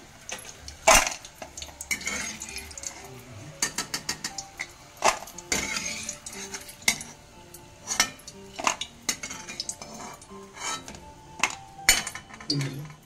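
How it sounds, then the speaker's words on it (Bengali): Crispy homemade tomato chips lifted from frying oil with a metal slotted spoon, giving repeated light clinks and scrapes of metal on the pan, irregular and close, with crackling in between. "এবার আমি একটা ঝাড়নির সাহায্যে তেল থেকে ছেঁকে ছেঁকে তুলে নেব। কতটা শব্দ হচ্ছে দেখুন, একদম মুচমুচে হয়েছে।"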